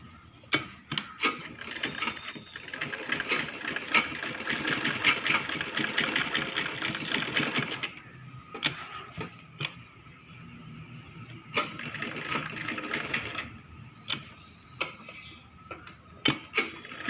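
Sewing machine stitching the side seams of a child's lehenga choli, a steady mechanical whir running in two long bursts with a pause between, broken by sharp ticking clicks from handling the fabric, close and fairly loud with no talk.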